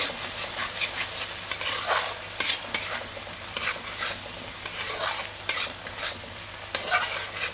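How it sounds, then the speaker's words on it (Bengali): Curry with yogurt frying in a pan while being stirred, a steady soft sizzle broken by repeated scraping strokes of the spoon at an even rhythm, close and moderately quiet. "এর মধ্যে আমি দই দিয়ে দিয়েছি, কিছুক্ষণ একটু কষিয়ে নেব।"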